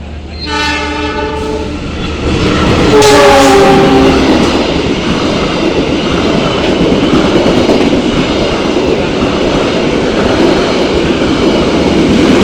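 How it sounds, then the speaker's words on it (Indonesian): The Malabar passenger train passes through the small Awipari station in Indonesia, sounding two loud blasts of its horn before the heavy rolling rumble and clatter of carriages builds and continues close by. "kereta api Malabar persiapan melintas stasiun Awi Pari dan menyelang kereta api Serayu malam"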